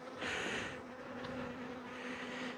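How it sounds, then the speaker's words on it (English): Honey bees swarm around a hive packed with honey, their dense buzzing hum droning close and continuous, swelling louder for a moment and then easing. "The bees are really buzzing me."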